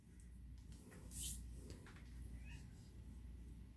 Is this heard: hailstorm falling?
no